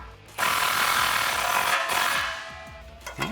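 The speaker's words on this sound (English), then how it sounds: "tighten down your clamp." Ratchet tightening an exhaust clamp on a 2018-2020 Mustang GT Corsa Xtreme cat-back exhaust with polished tips, a close, continuous rapid clicking run of about two seconds that tails off, followed by a short rattle.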